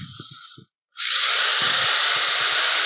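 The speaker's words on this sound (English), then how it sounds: "Just want to make sure I got the right size drill bit." A power drill with a 3/8 bit bores into a wooden bowl blank. It makes a loud, steady high whine and hiss that cuts out for a moment and then resumes at full strength.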